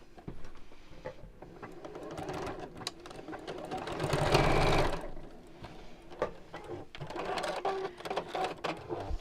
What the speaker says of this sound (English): we're going to sew straight across that line to make the base square